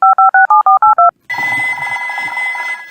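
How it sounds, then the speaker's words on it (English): A telephone number is dialed as seven quick, evenly spaced touch-tone beeps, followed by a louder ringing tone on the line. "Let's phone Dr. Hamster the vet."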